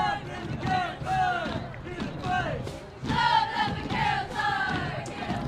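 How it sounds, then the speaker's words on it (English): Crowd at a varsity high school football game lets out shouts and cheers, a dense mix of raised voices swelling in waves with a roar at about the three-second mark, heard from the broadcast position. "I think it's the first time tonight we've heard anything from the crowd"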